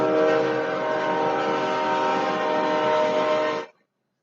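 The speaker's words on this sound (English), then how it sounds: "Train!" A train rumbling past with a sustained, loud horn-like tonal blare that holds for several seconds and then cuts off abruptly into silence.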